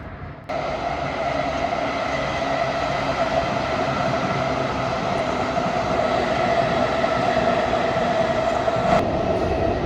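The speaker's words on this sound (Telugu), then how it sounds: "ఇక్కడ నుంచి ట్రైన్ కనిపిస్తుంది అది లోకల్ ట్రైన్ అనమాట" A local train in Japan rolling past, a loud, steady rumble and rushing roar that starts abruptly and holds for the rest of the clip, close by.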